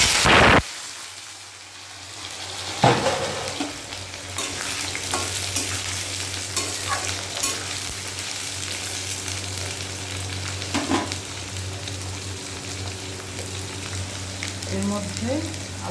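Potatoes dropped into hot oil with cumin in a pan, a loud burst of frying sizzle that settles into a steady crackle with occasional stirring, close and continuous.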